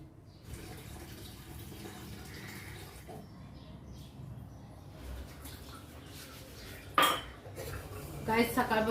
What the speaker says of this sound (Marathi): आता मी पटापट भांडी वगैरे घासून घेते